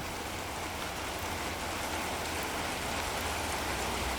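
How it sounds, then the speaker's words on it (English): Steady rain falling outdoors among newly delivered young fruit trees in spring, a dense, continuous broadband hiss that holds loud and even throughout with no voices. "And the rain is getting stronger and stronger."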